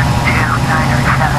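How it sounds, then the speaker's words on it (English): Aircraft engines roar loud and steady at takeoff power on the runway, a dense low rumble with a wavering higher whine, and a voice talks over the noise. "takeoff power set"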